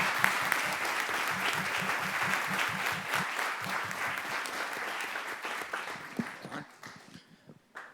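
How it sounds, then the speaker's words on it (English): Applause fills a board meeting room for students recognized that evening, with some distinct, close individual claps over the general clapping. It thins out and fades toward the end. "please join me in one more round of applause for all of the students"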